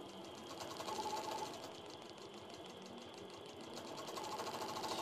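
A longarm quilting machine runs steadily, slowed down slightly while stitching small background quilting sections around a Ferris wheel design, giving a fast, even mechanical whir with a rapid needle rhythm throughout, close and continuous.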